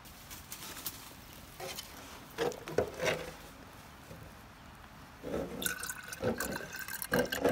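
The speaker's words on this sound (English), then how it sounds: "You can see how much it's dripping." Birch sap drips from a tap into a jar outdoors, irregular wet plinks and trickles that grow busier and louder toward the end, close by and with no talking.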